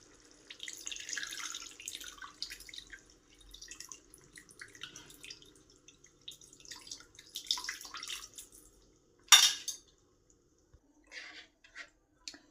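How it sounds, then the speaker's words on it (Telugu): Tamarind juice being poured into a pot of fish curry, heard as faint, close trickling and dripping liquid in short bursts with quiet pauses. "ఇప్పుడు ఇందులో చింతపండు పులుసు వేయాలి"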